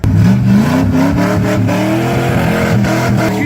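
A 1996 Ford F-350 crew cab truck revs hard in snow, its engine roaring loud and steady close by, the pitch rising throughout with no talk over it.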